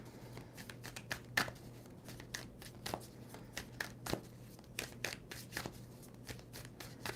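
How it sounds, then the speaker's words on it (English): Tarot cards being shuffled by hand in a quiet room, a run of soft riffling snaps and papery flicks in uneven bursts over a low steady hum. "Two more shuffles."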